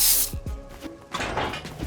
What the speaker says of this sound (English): my LCD makes me grab the spray can and fix the color scheme